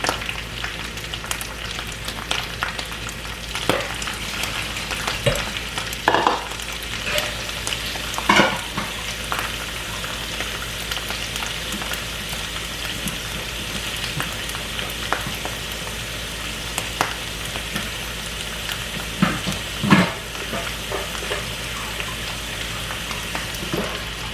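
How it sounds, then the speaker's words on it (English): Peeled shrimp frying in a pan for fried rice, a steady loud sizzle with scattered scraping and clinking of a utensil stirring throughout, close up and without any talking. "Add the shrimp."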